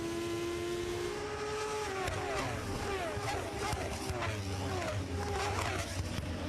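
Moto2 racing motorcycles with Triumph triple engines scream past on a broadcast of the French Grand Prix, rising and falling engine whines with gear changes under steady commentary.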